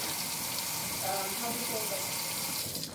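A Moen kitchen sink faucet running into a newly installed sink, a steady gushing stream of water held for a few seconds with a speaking voice over it.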